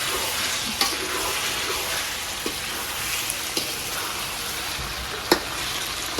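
Katla fish with salt gets stirred in a frying pan, a dense, even sizzle with occasional soft scrapes and clicks of the spatula, close and steady, with no voices.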